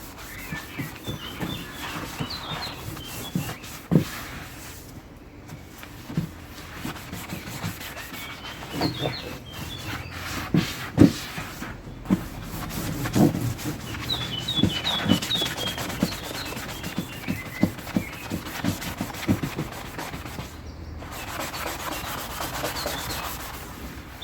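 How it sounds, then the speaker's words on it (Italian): A sponge soaked in a concentrated kitchen degreaser scrubs the rough surface of a garden chair, giving steady rasping rubs in irregular strokes, close and fairly loud, with faint birdsong in the background. "Si sente anche come la spugna fa rumore sulle parti molto ruvide."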